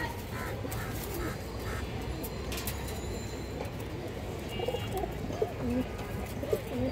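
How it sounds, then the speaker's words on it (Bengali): Pigeons, including a Giribaz Sabja female, coo softly amid a dense, steady hum of other birds nearby, with a few sharper flutters and calls near the end. "এই যে দেখেন আপনারা খুব সুন্দর একটা কবুতর।"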